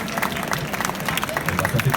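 An audience at a Q&A event in Brussels breaks into applause, dense and continuous clapping filling the whole moment, with crowd murmur underneath.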